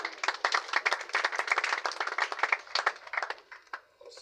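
Mourners at a funeral clapping to acclaim God's word, a lively burst of close, distinct handclaps in quick uneven rhythm that thins out toward the end.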